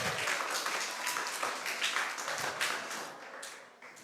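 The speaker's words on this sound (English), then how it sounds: "let's all give them a round of applause." An audience at a national reading competition applauds, a full burst of many clapping hands that stays steady and begins to taper near the end, with no talking over it.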